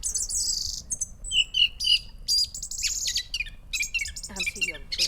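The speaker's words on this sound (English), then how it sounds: "There's a bird in the trees behind me. It sounds like one of those car alarms from the 80s that makes about 15 different noises." A bird in the trees at a rural glamping site calls in a busy string of varied chirps, whistles and squawks, one shifting phrase after another like an old car alarm. Moderately close and loud, with no talk.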